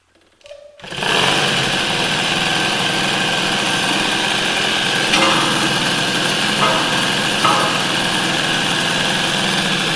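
A Peugeot 103 SPX-R moped engine starts after a brief kick or crank, then settles into a steady, buzzy two-stroke idle with a high rattling tone, close and loud throughout.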